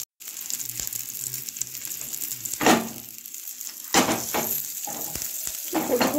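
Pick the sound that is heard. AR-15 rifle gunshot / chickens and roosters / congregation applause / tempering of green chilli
tempering of green chilli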